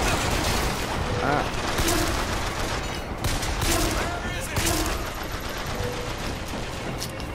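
Rapid bursts of gunfire from the video game Bioshock Infinite crack repeatedly in close succession, loud and sharp, while a player briefly voices a reaction over the shooting.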